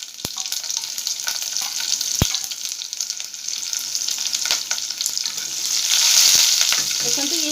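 Onion leaves and potatoes fry in a pan with a steady, close sizzle, occasional stirring clicks and scrapes, and the frying grows slightly louder toward the end.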